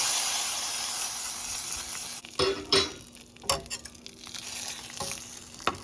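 Four red chilies sizzling and sputtering in hot oil for a seasoning, a steady close frying hiss broken by several sharp pops and crackles as the chilies puff up.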